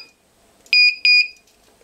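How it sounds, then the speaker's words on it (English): The two-minute timer alarm on a Skyleader Clubman seven-channel RC transmitter encoder gives two sharp, loud electronic beeps in quick succession, each a shrill tone, alone in quiet. "Ah, there's the 2 minute timer."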